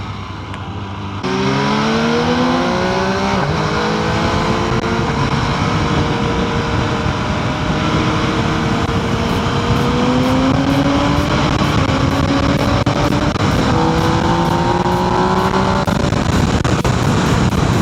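A 2025 MV Agusta Brutale 800R three-cylinder motorcycle accelerates hard on the road, its loud engine note climbing through repeated gear pulls with strong wind noise, heard from the rider's position.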